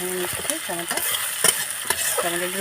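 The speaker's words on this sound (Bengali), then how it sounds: "একটু টমেটোটাও ভাজা ভাজা করে নেব" Tomatoes frying and being stirred in a pan for a Bengali amudi fish curry, a close steady sizzle broken by repeated scraping strokes of a spoon or spatula.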